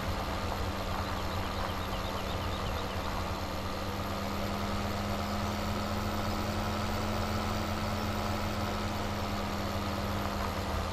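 A big, heavy tillage tractor in Farming Simulator 17 idles with a steady, droning diesel engine hum that holds constant and fairly loud throughout, with a low tonal rumble and no talking.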